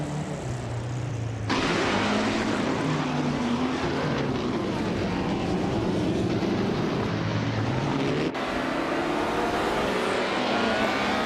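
Engines of racing cars, including a vintage 1958 Ferrari 246 F1, in a racing game, with a steady loud roar and shifting pitch and a couple of abrupt cuts as cars pass.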